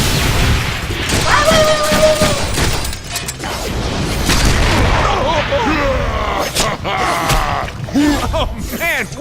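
Rocket attack explosions in the Deadpool video game, with continuous loud booms and gunfire-like blasts packed densely together, and game voices and effects layered over the chaos throughout.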